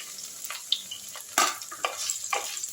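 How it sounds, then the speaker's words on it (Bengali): Okra frying in hot mustard oil in a wok, a close, lively sizzle punctuated by several sharp stirring scrapes and bursts of spatter. "যখন তেলটা একটু গরম হয়েছে প্রথমে আমি ভেন্ডিগুলোকে কড়াইয়ে দিয়ে দিলাম"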